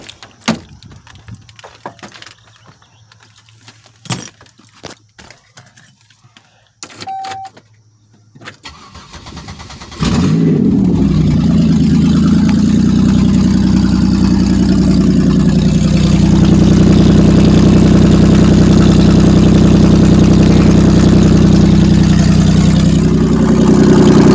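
A 2007 Pontiac Grand Prix with a freshly swapped 4T65E transmission and its exhaust still unhooked. Quiet faint handling noises give way to the engine firing up, then a loud, steady, rumbling idle that continues close by with no talk.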